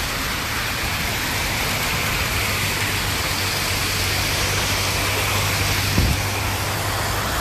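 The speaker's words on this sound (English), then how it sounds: "Heavy rain is falling." Steady, dense hiss of heavy rain pouring down in Paris without letup, with a low hum in the background and a brief knock near the end.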